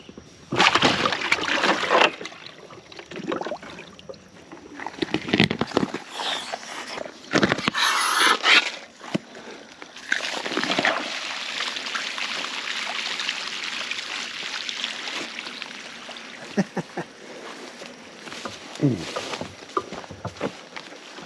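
Water pumped through a 2-inch hose gushes and splashes into a creek, a rushing, sloshing flow that surges and eases, with voices talking over parts of it.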